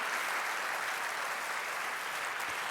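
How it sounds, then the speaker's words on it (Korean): A church congregation at a Christmas concert service claps together in steady, dense applause that fills the room evenly from start to finish, with no voices rising above it. "계속해서 자기 자신에게 너 정말 대단해 이렇게 박수 한번 보내주시죠"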